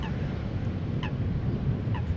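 Several short honking bird calls ring out at intervals over a steady windy background rumble, moderately near.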